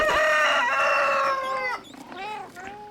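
A rooster crows in the VR game I Am Cat, one loud drawn-out cock-a-doodle-doo close up, followed by a few shorter clucking calls.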